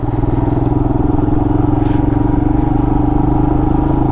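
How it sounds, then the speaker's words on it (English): A Royal Enfield Himalayan motorcycle putters along in second gear on a forest trail, its single-cylinder engine thumping in a loud, steady, close rhythm with no let-up. "Putting around, second gear putting."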